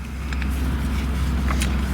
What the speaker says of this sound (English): a nice healthy growl from the car as you crank it up